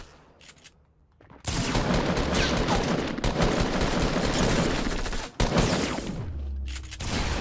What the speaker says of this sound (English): Dude, stop shooting me.